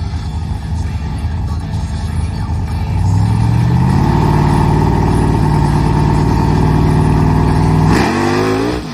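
A nitrous-equipped Dodge Hemi Megacab truck engine roars loudly up close. Its pitch climbs steadily, holds a strong high rev, then drops abruptly at the end.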